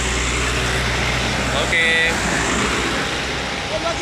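Pelangi intercity bus rolling along the road into Palembang, a constant engine and road rumble heard from inside, with a horn-like tone near the middle and a person speaking over it.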